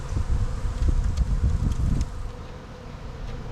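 Package honey bees buzz in an open bee cage during a hive install, a steady, close, continuous drone with no talking.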